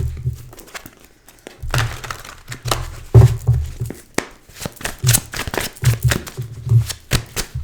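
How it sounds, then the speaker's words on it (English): Tarot cards being shuffled by hand, giving bursts of crisp riffling and flapping with soft thumps and pauses between them, close and fairly loud with no talking. "Let's shuffle the cards really good for Leo."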